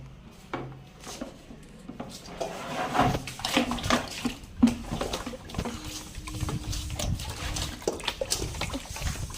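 Water is drawn and poured into a container, splashing and gurgling up close in an uneven stream with a few knocks, with little talking.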